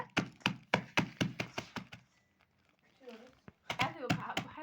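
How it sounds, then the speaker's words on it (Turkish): Walnuts cracked by hand for a Turkish dessert, a run of about a dozen sharp, evenly spaced knocks, close and loud, then a short pause before someone speaks and a few more cracks sound under her voice. "İlk önce cevizlerimizi güzelce kırıyoruz şekilde"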